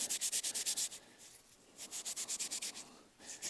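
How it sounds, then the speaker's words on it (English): A Scotch-Brite pad rubs over rusty metal that has been soaked in vinegar, making rapid rhythmic scrubbing strokes in bursts with light pressure, close and fairly quiet, with a short pause in between. "just rub it on the Scotch-Brite. And I'm not putting much pressure on it."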